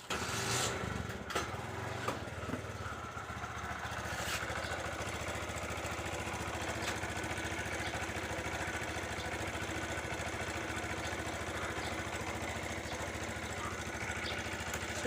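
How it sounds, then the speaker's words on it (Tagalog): A motorcycle engine idles in a steady, continuous putter, close and fairly loud for the whole stretch with no talking over it. "Susunod na lalagyan niya ng tricycle itong motor na to."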